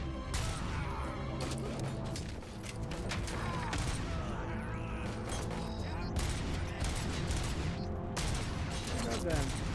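Dense, continuous gunfire in RoboCop: Rogue City, rapid repeated shots with mechanical clatter and crashes, loud and sustained throughout, with talk mixed in.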